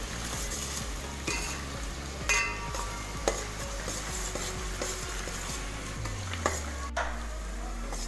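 Onions fried in a pan until light golden for a Bihari keema, a steady sizzle with intermittent stirring scrapes and light metallic taps of a spoon, close up with no talking.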